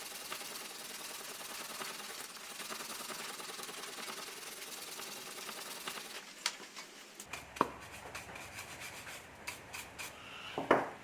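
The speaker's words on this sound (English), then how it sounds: "Even just a quick little sand like that, you can see it looks a lot better." Sandpaper rubs steadily across the wooden edge of a pinning tray in a continuous close scratching, then gives way to scattered light taps and brushing strokes toward the end.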